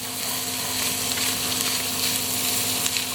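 Bopis cooks in a hot pan with bay leaves and black pepper, a soft, steady sizzle and frying hiss as it is stirred, with no talking.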